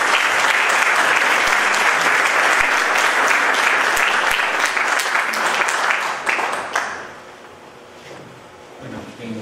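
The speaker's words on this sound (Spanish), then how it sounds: "Por favor, fuertes aplausos." Strong audience applause at an academic tribute, a loud dense burst of clapping that fills the room for about six seconds and then quickly dies away to near quiet.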